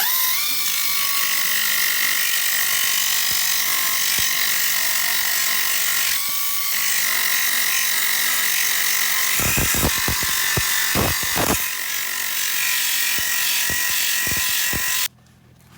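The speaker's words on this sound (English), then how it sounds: "let's give the Bristle Blaster a shot" A Bristle Blaster rotary tool strips undercoating from a Volvo 1800ES, giving a loud steady high-pitched whine with gritty scraping. Sharp clicking rattles come late in the run, then it cuts off abruptly.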